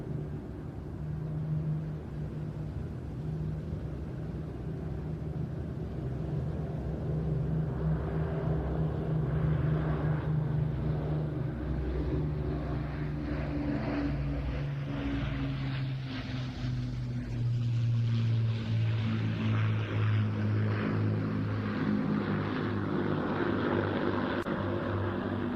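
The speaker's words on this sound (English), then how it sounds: "But for now, final pass. The Battle Britain Memorial Flight Lancaster bomber," Battle of Britain Memorial Flight Avro Lancaster bomber, City of Lincoln, making its final pass at a seaside air show, a steady low multi-engine piston drone rising and falling as it sweeps past, continuous throughout with broad background rumble.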